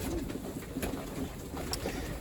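A pigeon held in the hand gives soft, low cooing murmurs, faint and close against a steady outdoor background hiss.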